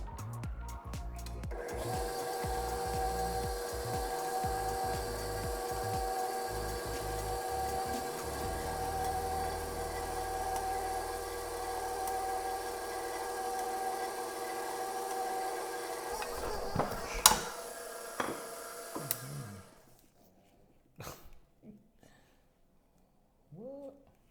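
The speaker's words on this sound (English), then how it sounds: "We're going to grind the chorizo." A meat grinder grinds chorizo with a loud, steady motor hum and rattling for most of the stretch, then it stops and a few knocks and clatters follow before near quiet.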